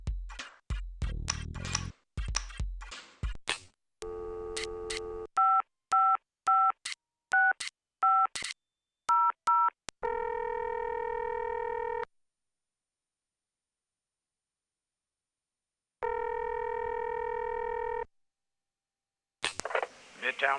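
Touch-tone telephone dialing from the 3DO video game Snow Job: rapid bursts of paired DTMF beeps in quick succession, followed by two long steady ringback-like tones separated by silence, with clicks and short game sounds at the start.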